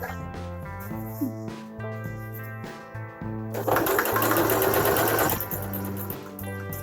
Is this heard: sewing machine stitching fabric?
yes